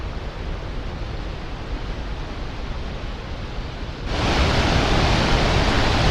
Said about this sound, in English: Cumberland River is roaring today.